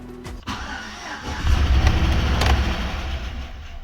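A Chevy 5.3L V8 with a suspected misfire or stuck lifter cranks briefly, then catches and settles into a loud, rumbling idle, recorded close with no talking.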